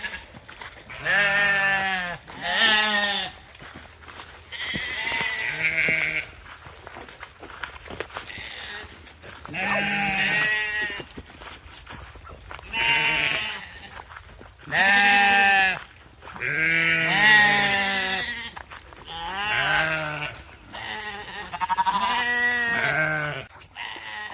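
Sheep bleat repeatedly and loudly nearby, with several wavering calls in irregular succession and soft footsteps in between.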